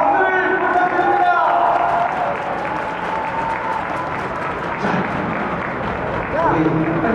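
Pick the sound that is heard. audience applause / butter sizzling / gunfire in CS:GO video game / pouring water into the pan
audience applause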